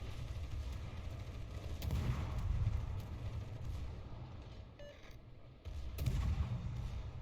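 Naval gunfire from a warship video game, with heavy booming salvos and rumbling low-end blasts that swell around 2 s and again near 6 s over continuous battle noise.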